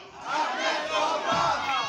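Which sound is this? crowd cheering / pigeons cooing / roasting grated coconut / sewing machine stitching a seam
crowd cheering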